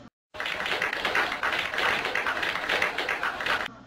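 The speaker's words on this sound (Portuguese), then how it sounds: "Os aplausos." A dense burst of audience applause runs as a sound effect for about three and a half seconds, many hands clapping steadily at an even level before cutting off abruptly.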